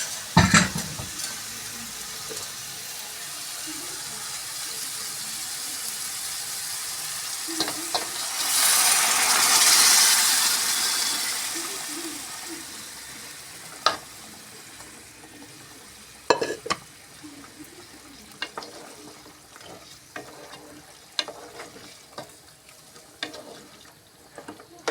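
Mutton sizzles and fries in a pan while being stirred, with a steady hiss that swells into a louder burst of frying midway, then scattered scraping clatters of the spoon against the pan.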